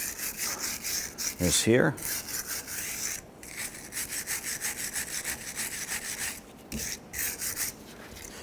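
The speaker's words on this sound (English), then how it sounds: "take a wire brush, a little bristle brush or something. We're going to clean off" A wire brush scrubs the wheel hub of a 2006-2014 Honda Ridgeline during a front wheel bearing job, giving close, steady rhythmic rasping strokes with brief pauses and a few spoken words.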